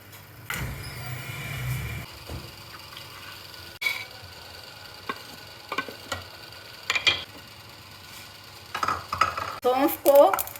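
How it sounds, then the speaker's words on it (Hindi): Fox nuts (makhana) dry-roasting in a pan, with scattered close clinks and scrapes of a spoon stirring against the metal and light rattling of the puffed seeds. "फुल मखाने को रोस्ट करें।"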